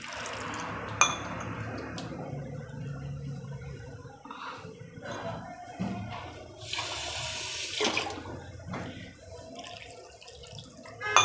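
Water splashes and trickles steadily for several seconds as it is poured into dhokli batter, with a brighter gushing burst partway through, close by and without any talking.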